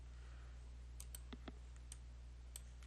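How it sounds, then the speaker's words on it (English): Several sharp, light clicks scattered irregularly over a steady low hum, close by and fairly quiet, like a computer mouse being clicked. "I'm just shift double clicking on all those"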